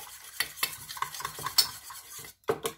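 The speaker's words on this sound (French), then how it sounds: "Vous mettez le jus du citron vert dedans. Vous mélangez le tout" A utensil stirring a peanut butter, oyster sauce and lime juice dipping sauce in a bowl, giving rapid scraping and clinking strokes in a steady rhythm, close and fairly loud, with a brief pause near the end.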